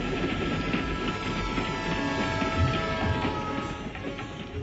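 A train heard from inside during a journey in Bihar, giving a steady, broadband rumble of rolling wheels and carriage noise that continues evenly throughout, with no talking.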